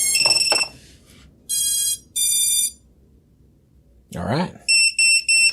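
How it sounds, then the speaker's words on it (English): A small sub-250 quadcopter's flight controller, powered by a 4S LiPo with no receiver connected, gives several short, loud, high electronic beeps in bursts; someone speaks briefly between them. "That beep tells us that we don't have an RX hooked up to it."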